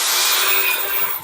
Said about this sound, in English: Here I'm drilling out the brass tubes.